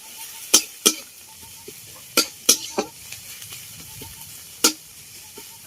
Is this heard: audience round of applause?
no